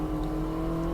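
Mini Cooper S race car accelerating hard in third gear at Cadwell, a steady close engine whine with strong tonal harmonics over a brief moment, no talking.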